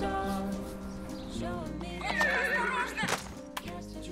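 A horse whinnies loudly in a rural setting, one long shaky neigh rising and falling over a few seconds with faint hoof clatter and background noise.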